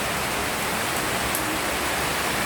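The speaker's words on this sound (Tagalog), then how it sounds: "Grabe ang ulan." Heavy rain pours down steadily, a dense, constant hiss of drops on surfaces with no voices, heard close and fairly loud throughout.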